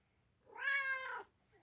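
Kato, a pet cat, gives a single quiet meow just under a second long, close by and alone.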